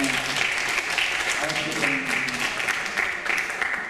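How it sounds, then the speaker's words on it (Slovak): An audience at a music festival, Turzovský vrabčiak 2017, applauds a young band with steady, dense clapping that fills the hall throughout, while a presenter talks over it. "vy ještě jednou můžete zatleskat mladým"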